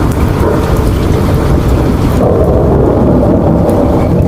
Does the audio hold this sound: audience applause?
no